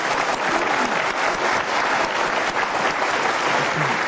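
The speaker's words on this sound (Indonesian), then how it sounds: "Oke, boleh tepuk tangan." An audience at a televised panel with legislative candidates breaks into applause, a dense sustained clapping that holds steady throughout, loud and close, with no talk over it.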